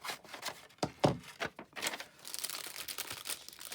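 Scissors cut down a sticker sheet with a quick run of sharp snips and papery crinkles, quiet and close, then a softer rustle of handling the paper.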